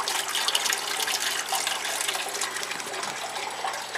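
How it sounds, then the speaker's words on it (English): A fountain pump recirculates water around a basement hydroponics system, producing a continuous rushing, splashing flow that stays even throughout, with no speech. "And of course another fountain pump down there."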